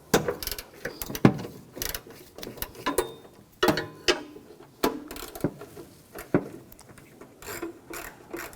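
A ratchet with a 12mm socket clicks in quick repeated bursts while removing hood hinge bolts on a 2014-2020 Nissan Rogue, close up with short pauses between strokes.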